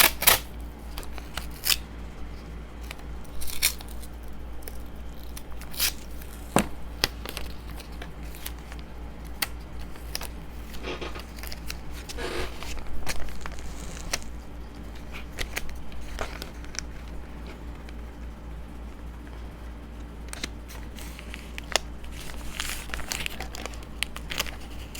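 Scissors snip and trim scrap paper while pages are crumpled and shuffled, assembling a journal from trash materials; close, intermittent crisp cuts and rustling throughout, no talking.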